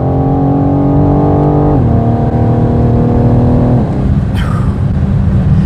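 A 2022 BMW M4 Competition xDrive G82 with four-wheel drive and 510 horsepower accelerates hard, its engine note climbing loudly and steadily through two upshifts before settling into a sustained roar, heard close from inside the car.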